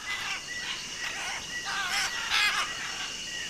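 Harsh, raspy squawks from macaws in the Costa Rican rainforest of Corcovado, several loud calls in quick succession over a steady background hiss.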